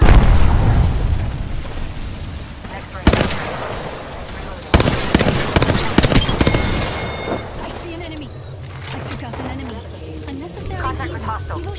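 A thermite grenade bursts and burns in the Apex Legends video game on World's Edge, with a loud fiery crackle, sharp popping blasts and a fading sizzle while in-game voices call out.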